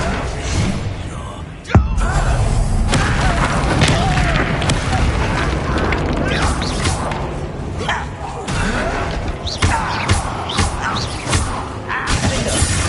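A Descendo spell cast in Hogwarts Legacy, heard as a heavy booming slam at the start followed by continuous loud crashing, rumbling combat noise with scattered thuds and clatter.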